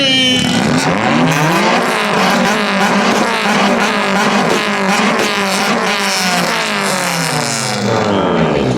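A tuned Toyota 86 and Honda Civic rev hard side by side at a car meet in Japan, their loud overlapping engine notes climbing and dropping in rapid bursts, close and continuous throughout.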